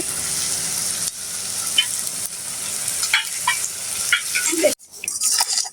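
Water cooking down in a wok (kadai), with steady broadband sizzling and hissing plus occasional scraping stirs throughout, close and fairly loud, no talking.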